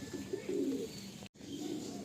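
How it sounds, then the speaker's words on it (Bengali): Pigeons in a loft give soft, low cooing calls in short bursts, close by, broken by a brief gap partway through, with no talking. "দেখুন নেক্সট একটা পায়রা আপনাদের দেখাচ্ছি।"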